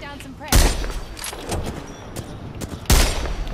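Loud bursts of gunfire in the Apex Legends game come in two sharp, close volleys with scattered shots between them over a dense, noisy battle bed.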